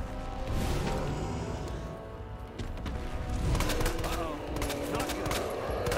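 Gunfire from the video game Resident Evil 2 comes in scattered bursts of sharp shots over dense game sound, growing busier and louder toward the end, with a voice talking at times.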